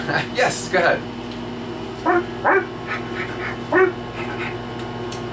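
A dog gives several short barks and yips in quick bursts, fairly close, mixed with people talking over a steady background hum.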